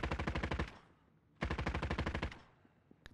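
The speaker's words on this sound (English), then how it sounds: "Are you shooting at something? Yep," Automatic weapon fire in Call of Duty: Warzone: two close, rapid bursts of roughly a dozen evenly spaced shots each, separated by a brief pause, with no talking over them.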